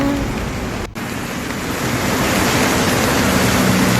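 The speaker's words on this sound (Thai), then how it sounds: "ฟังเสียงน้ำกันนะคะ" Heavy running water during rain and flooding in Samut Prakan, a dense, loud, continuous rushing wash with a momentary dip near the start, and no talking.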